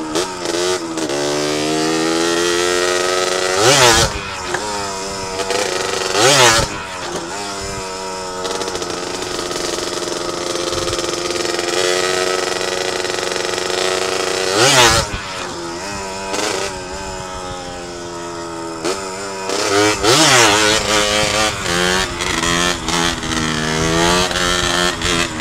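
A Yamaha Sportrim 125Z motorcycle engine drones loudly and close by, rising and falling in pitch with several sharp revs throughout.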